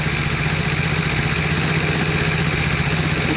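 A motorcycle engine fitted with a PWK carburetor idles steadily while warming up, a loud, close, continuous rumble with fast regular pulsing and no talk over it.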